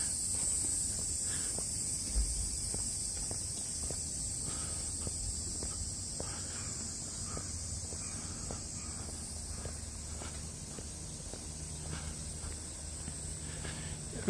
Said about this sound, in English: You get tired of the cicada noise?